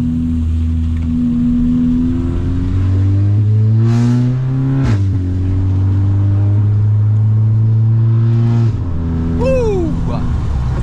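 Volkswagen Scirocco heard from inside while accelerating along a straight road, its engine note climbing steadily through gears with a brief dip at each shift, loud and continuous, with a short whistle-like sound near the end.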